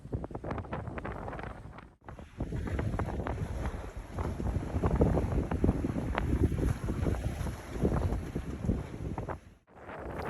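Steady wind rushing over a sailboat under sail in the Thames estuary, a loud continuous buffeting roar on the microphone with brief lulls.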